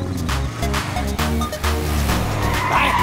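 A car skids with tires squealing through a tight turn in a chase, the engine roaring loud and close under continuous tire screech with no talk.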